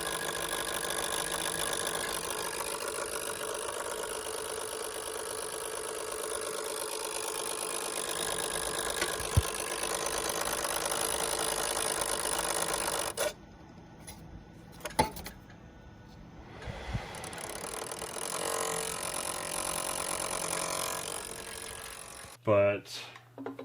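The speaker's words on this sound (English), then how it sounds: "It was making kind of a two-stroke sound" A failing motherboard chipset inside a PC gives off a steady, buzzing two-stroke-like drone that runs continuously for about thirteen seconds, drops out briefly, then returns more faintly with a few clicks.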